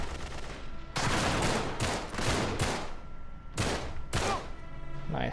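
Pistol fire in the video game Uncharted 3: a series of loud gunshot bursts in quick succession, each with a booming echo and spaced roughly half a second to a second apart.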